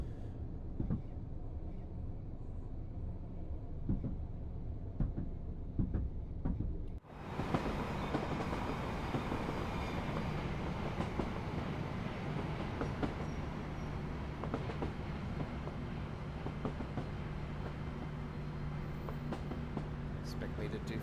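A high-speed train in the Train Sim World 4 video game, on a Northern Trans Pennine route, rolls along with a steady broad rumble and faint rhythmic clatter. The rumble swells sharply about a third of the way in and then holds loud and constant.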